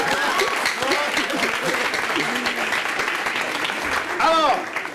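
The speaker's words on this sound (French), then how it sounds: "On va l'applaudir." A French studio audience applauds a guest on a live talk show, steady clapping carried under a host's voice that talks across it.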